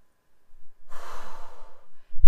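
One long, deep exhale through the mouth during a breathing exercise, close and breathy, rising quickly, fading, then followed by a short sharp intake.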